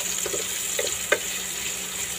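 Ginger browns in a pan for fish escabeche, a steady, close sizzle of frying with a few faint stirring scrapes.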